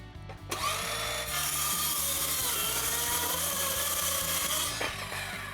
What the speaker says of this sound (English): That's where we want to cross cut this 1x12.